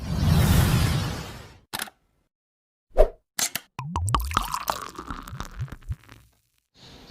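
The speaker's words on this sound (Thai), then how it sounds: "มีวิธีเปิดขวดโซดา เปิดขวดเบียร์แบบง่ายๆ" A soda bottle cap is levered off against the edge of a wooden table, giving a few sharp, close knocks and pops separated by silence, followed by a brief fizzy rattle.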